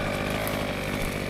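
A brushcutter engine drones steadily at high revs during farm brush cutting, loud and close, without pauses or speech.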